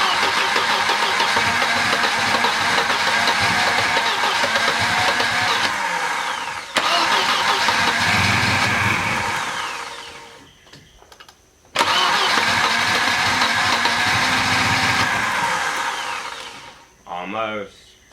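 A 1989 Volvo 760 Turbo engine with worn vacuum lines cranks, catches and runs roughly and loudly, cutting out twice to near silence before restarting, with a brief voice near the end.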